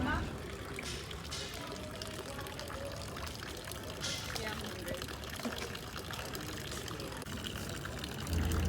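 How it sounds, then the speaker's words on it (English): Water pours steadily from a public fountain in Venice, a continuous splashing stream running through the whole stretch with outdoor crowd murmur and voices underneath. "I was thankful for this fountain"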